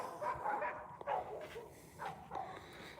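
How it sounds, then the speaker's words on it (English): Several dogs at a neighbor's house bark in short bursts of yaps and woofs a little way off, the barks spaced irregularly over a steady outdoor background. "You guys hear the neighbor's dogs?"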